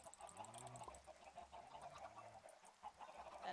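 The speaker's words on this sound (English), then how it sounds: "Chickens." Chickens in a video game cluck faintly in a soft, uneven run of short calls, low in level and without speech over them.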